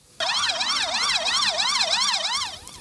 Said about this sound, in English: Sirens loud enough and the empty streets give an even more telling signal of these unusual times.